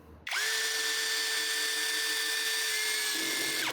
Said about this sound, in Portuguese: Conseguimos facear o parafuso, cravamos até um pouquinho além do nível da madeira.